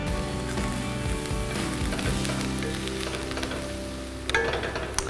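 Onions sizzle and fry in a pan for paneer lababdar, a steady close crackle with a few stirring clinks near the end.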